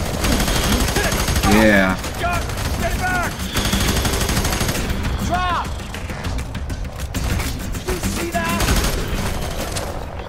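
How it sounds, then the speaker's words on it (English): Rapid bursts of automatic gunfire and sharp weapon shots from the F.E.A.R. 3 shooter game crackle loudly over a busy game soundscape, while a player briefly speaks. "somebody's shooting me"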